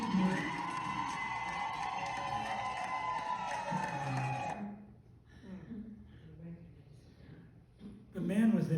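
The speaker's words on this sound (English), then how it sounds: "They got cheering as they got closer." A crowd cheers and claps loudly in a played recording as an old man reads aloud, then drops away into quieter murmuring before swelling again at the end, with voices heard throughout.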